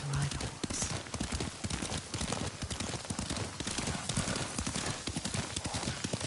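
Steady clip-clop of horse hooves at a riding pace in Ghost of Tsushima, a rapid continuous rhythm running beneath conversation between voices throughout.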